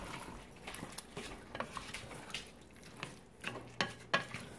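Rice being stirred into chicken biryani in a pot, soft scraping and wet shuffling with a few clinks of a spoon against the pot near the end, quiet and close with no talk.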